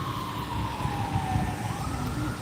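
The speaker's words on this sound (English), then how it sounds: "Lights and sirens with the Tacoma PD escorting behind." Emergency vehicle siren wailing steadily and loud on a street in Tacoma, its pitch sliding slowly down and back up, with a police escort following behind with lights and sirens.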